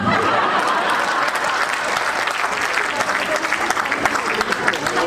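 Audience at a Hindi comedy poetry gathering (hasya kavi sammelan) breaks into steady applause, dense and fairly loud throughout, with a few light chuckles scattered in the crowd.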